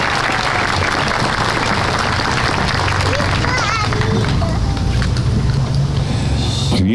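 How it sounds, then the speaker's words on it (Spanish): Loud, sustained applause from a concert audience at a gala honoring a former-student school band, dense clapping throughout with a voice speaking over it. "Fuertes palmas"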